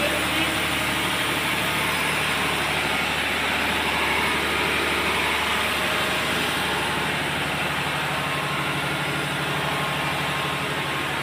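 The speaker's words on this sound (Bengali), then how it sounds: "এগুলো হচ্ছে হুইচেই ব্র্যান্ডের ইঞ্জিন এগুলা" Weichai diesel engines rated 880 horsepower run in the engine room of a passenger launch, giving a loud, constant, close mechanical roar and drone that holds steady throughout with no speech.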